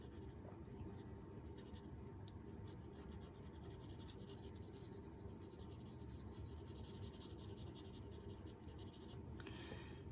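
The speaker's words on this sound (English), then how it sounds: "I switched pencils because it's too hard to shade with a mechanical pencil" Graphite pencil shading across paper, a steady soft scratching and rubbing that runs close and continuous throughout, with a faint brief high rasp near the end.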